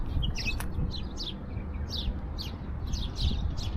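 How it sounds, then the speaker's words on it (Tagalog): Several birds chirp and tweet in short, bright bursts over a steady low rumble of outdoor ambience, with calls repeating irregularly throughout. "yung huni ng ibon pa lang marirelax ka na"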